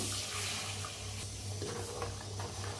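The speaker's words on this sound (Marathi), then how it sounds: "थोडस पाणी घालूया" A little water from a mixer jar poured into a hot pan of frying spice masala, a loud continuous rushing hiss and bubbling that fills the whole stretch, with no talking.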